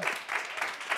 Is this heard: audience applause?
yes